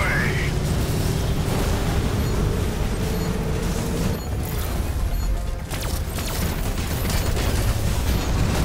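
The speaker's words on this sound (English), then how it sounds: "Those explosions have caused flammable gas leaks." Explosions and rumbling blasts in the Spacelords video game, a dense, loud, continuous roar of booms and bursts with game sounds layered throughout and voices speaking over the chaos.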